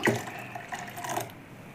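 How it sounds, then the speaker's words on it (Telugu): A little water is poured into a blender jar holding a freshly ground paste for a paan sherbet, a brief, close, soft splash and trickle that fades out. "కొద్దిగా వాటర్ పోసేసుకుందాం దీంట్లో."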